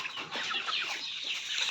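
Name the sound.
rooster clucking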